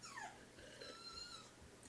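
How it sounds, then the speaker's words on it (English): A dog whimpers during a fit, with thin high whines and soft breathy sounds rising and falling through the short stretch at low level. "My dog is having a fit right now."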